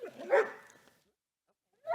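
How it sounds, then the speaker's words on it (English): A sheriff's department police dog, a female canine, gives a short bark-like yelp followed by silence, then another brief bark at the end, close and fairly loud. "She loves to bark, obviously, as you can see."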